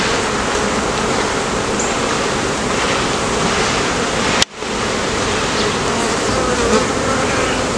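Dense, steady buzzing of a large swarm of bees during a swarm removal fills the whole clip, briefly broken by a sharp dropout near the middle.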